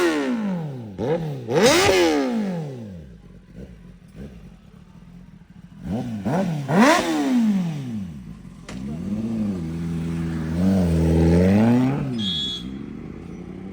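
A Kawasaki Ninja ZX-10R 1000cc sport bike engine running loud and close, with sharp repeated throttle revs that rise and fall in quick pairs, then a longer sustained rev climbing and settling, with some mechanical clatter.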